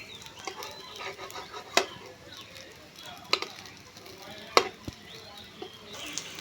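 Semolina snack frying in a little oil in a pan: soft, steady sizzling with a few sharp clinks of a utensil against the pan, fairly quiet and close.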